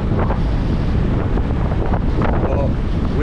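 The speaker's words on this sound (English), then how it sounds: "Oh, wind. Yeah, I got a little wind here." Strong wind buffeting the microphone on a downhill ride along the Big Sur coast, a loud constant roar throughout with faint voice fragments beneath it.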